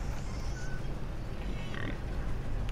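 Pig grunts from the video game Child of Light, a continuous rough, snorting grunt with brief squeaky tones, heard close and steady over the game's ambient sound.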